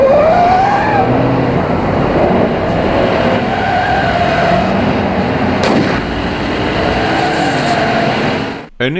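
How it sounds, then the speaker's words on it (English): A car chase from a James Bond film roars with loud revving engines, squealing tires and sharp bursts resembling gunfire, all dense and continuous before cutting off abruptly. "You got your old car chases."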